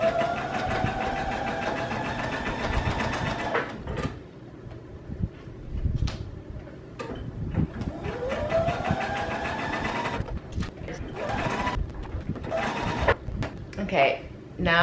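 A sewing machine runs in bursts stitching the side seam of a thrifted denim jacket, its fast rhythmic whir stopping and restarting at close range, with a person talking over it.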